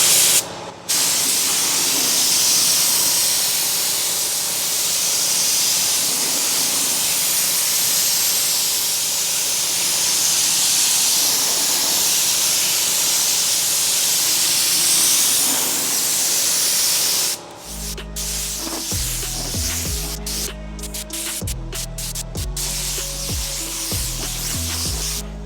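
A paint spray gun applying single-stage paint to an abandoned Cadillac being restored as a budget lowrider gives a loud, steady hiss that runs for about seventeen seconds, then breaks into shorter bursts with mechanical clatter.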